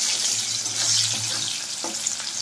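A large cut bitter gourd frying in a wok, giving a steady, loud, hissing sizzle throughout with a few faint stirring knocks and no talking.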